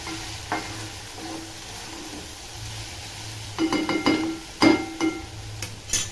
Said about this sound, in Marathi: मीठ टाकल्यावर पण चांगलं असं परतून घ्यायचं